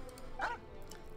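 A dog in the video game Genshin Impact gives a single short bark, faint over a low steady background hum, with no talk.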